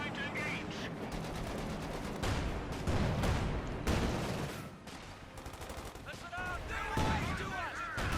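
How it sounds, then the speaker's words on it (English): Anti-tank gun fire in a Company of Heroes 2 battle, with repeated sharp booms among dense gunfire and explosions, loud and continuous under a commentator's talk. "and then the fire from the Stoop"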